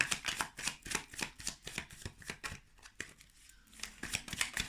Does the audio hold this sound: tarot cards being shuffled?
yes